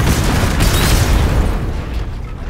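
A barrel in a video game is blown apart by an explosion, a loud, close, deep boom that rumbles and slowly fades over a couple of seconds.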